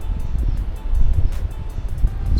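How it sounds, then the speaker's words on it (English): Strong wind gusts at an outdoor camping spot in the Oberon area of Australia, heard as a low, steady roaring buffet across the microphone with uneven surges and no talking. "It's very windy"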